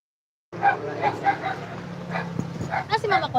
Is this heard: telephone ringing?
no